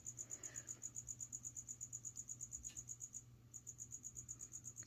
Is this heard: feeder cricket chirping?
yes